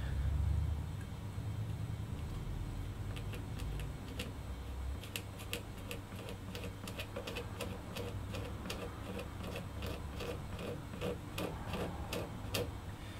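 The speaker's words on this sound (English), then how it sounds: "can I scrape it off with a razor blade and have it go down to the level that I want to take it" A razor blade scraping plastic off the fingerboard of a vintage Japanese Rickenbacker-style guitar, with a quick run of sharp, rhythmic ticking strokes close up over a low background hum.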